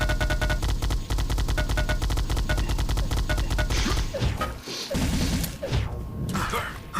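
Rapid video game gunfire in a fast shooter match, a dense run of repeated shots for about four seconds, then scattered bursts, impacts and crashes, loud and continuous with no talking.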